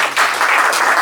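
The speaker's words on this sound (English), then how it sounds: "Give her a big round of applause." Seminar audience gives a brief round of applause for a woman, a short, close burst of dense clapping.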